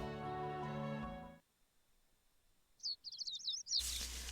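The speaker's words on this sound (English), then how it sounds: "The sound of birds chirping slowly raises me from my dreams into consciousness." Bright, rapid bird chirps in the video game Code: Realize flutter briefly in a quiet gap after a fading musical tone, followed by a sudden loud burst of noise.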